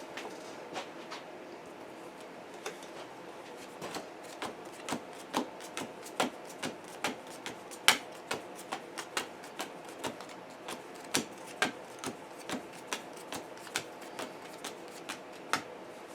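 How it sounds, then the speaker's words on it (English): Deck of cards for the Lord of the Rings card game being shuffled by hand in a one-on-one pile shuffle, a long run of crisp, evenly spaced slaps and ticks, close and quiet, without speech. "you give it the little 1-on-1 shuffle"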